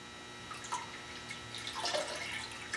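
A parts washer pump runs while fluid splashes out of a hose, an irregular near trickle and spatter of liquid over a low pump hum.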